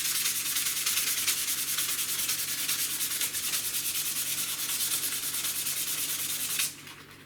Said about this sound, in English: hold it in the side, and sand it fully lengthwise.